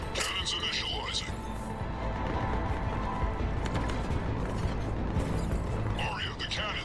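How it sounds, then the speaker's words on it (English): Spaceship cannons power up in Mass Effect Legendary Edition, a sustained mechanical whirring and ratcheting grind bracketed by clanking bursts at the start and end, with a game voice speaking over it. "Cannons initializing."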